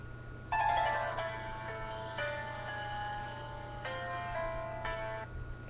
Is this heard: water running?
no